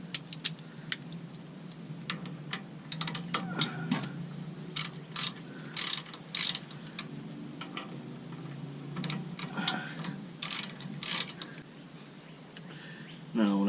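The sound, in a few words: unscrewing bolts on an AirDog fuel pump with a 1/4 inch Allen key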